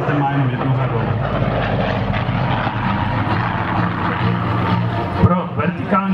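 An Aero L-39 Albatros jet at an air show in Pardubice, its engine roaring steadily and loudly throughout, with a broad rushing drone and people talking over it.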